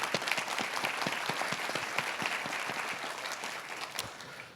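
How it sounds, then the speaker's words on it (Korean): An audience at a scholarship award ceremony claps steadily in welcome for a professor of civil and environmental engineering, a dense, even round of applause that stays level and then trails off slightly. "큰 박수로 환영해 주십시오."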